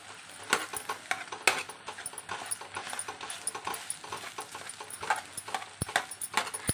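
Egg fried rice is tossed and stirred in a pan street-style, with a spatula scraping and tapping the metal in quick irregular clinks, close up and fairly quiet with no talk.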